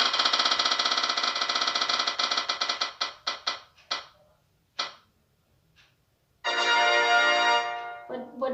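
A prize wheel clicks rapidly as it spins, the ticks slowing and spacing out until it stops, followed by a quiet pause and then a second burst of fast, loud clicking, close up.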